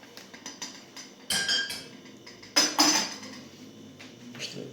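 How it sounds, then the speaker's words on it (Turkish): Spoon stirring Atom tea in a cup, a series of irregular metallic clinks and scrapes, with a few sharper louder knocks among the lighter taps. "İşte karıştırıyoruz."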